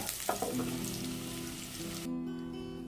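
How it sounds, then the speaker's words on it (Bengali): Potatoes frying in oil for a jackfruit vegetarian biryani give a steady, close sizzle with faint stirring clicks. The crackle continues evenly, then dulls as the pieces are lifted out of the pan. "আলুগুলো ভাজা হয়ে গেছে আলুগুলোও তুলে নেব"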